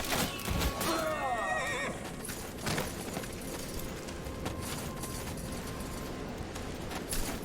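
A horse whinnies loudly near the start, over a constant busy background of clattering and rumbling, with faint hoof-like clopping, in the video game Spellforce 3 Soul Harvest.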